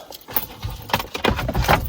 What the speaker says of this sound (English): I brought the wrong keys